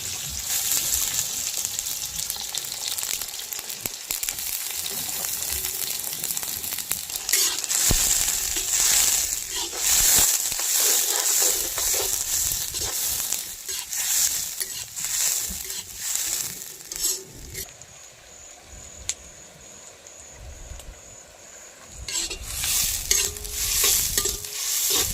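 Sliced onions frying with cardamom in a pan for Hyderabadi chicken gravy, a continuous sizzle broken by scraping stirs, loud and close, easing slightly near the end before rising again.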